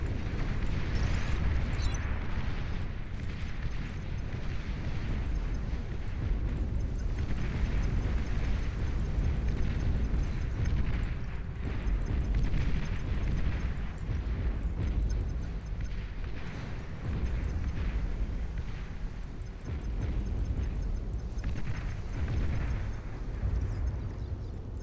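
A commander unit blows up in the real-time strategy game Beyond All Reason, a sustained, loud, rumbling explosion and roar that fills the whole stretch without easing off, with no voices over it.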